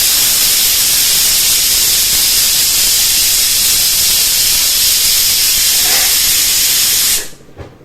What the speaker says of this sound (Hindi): जो प्रेशर कुकर है, उसमें सीटी भी आने लगी है।